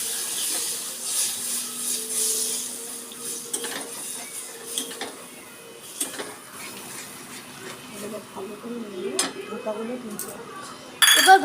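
A spoon scrapes and clinks against a pan while stirring spiced curry sauce with cashew paste after water is added, intermittent metallic taps and soft wet stirring, with a voice speaking over it.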